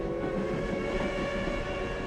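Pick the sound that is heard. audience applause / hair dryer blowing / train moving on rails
train moving on rails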